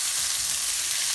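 Tuna noodle pasta being stirred in a hot pan, a loud, constant sizzle with no clear breaks, close and alone.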